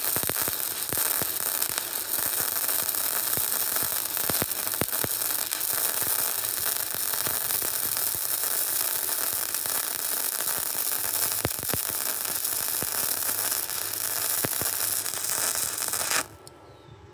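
Steady, continuous crackling hiss of a Yeswelder arc welder melting into metal outdoors, loud and unbroken for about sixteen seconds before cutting off abruptly, with no talking.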